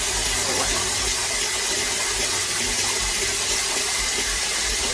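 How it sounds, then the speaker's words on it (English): Water gushes steadily into a container outdoors in rural Jamaica, a loud, continuous splashing pour with no talk over it. "I'm going to put some water in like this"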